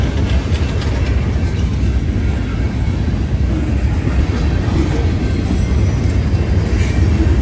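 A train rolls past near a hiking town along the Appalachian Trail, a loud, steady broadband rumble of wheels and cars filling the whole stretch without a break, with a faint high whine above it.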